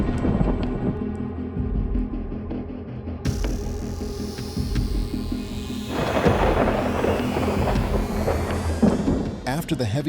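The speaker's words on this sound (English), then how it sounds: "Thunder roared continuously." Thunder rumbles continuously through a heavy storm with rain, deep rolling booms that swell and fade, a louder crash midway, with crackling static-like texture and a voice speaking over it.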